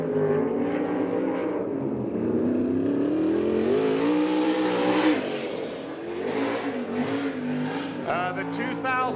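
A winged sprint car at a racing event in Tucson roars around the track, its engine rising and falling as it laps, loud and continuous with an announcer talking over it.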